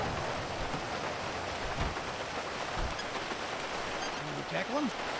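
Steady, even hiss of rain falling in a roleplay video game, holding at the same level throughout, with a faint low tone rising near the end.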